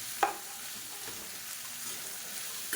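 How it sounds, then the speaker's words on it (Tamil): Vegetables sauté in a pan for arachuvitta sambar, a soft, continuous low sizzle with a couple of sharp scraping stirs at the start and end, no voices. "இப்போ இதையும் சேர்த்து வதக்கிக்கலாம்."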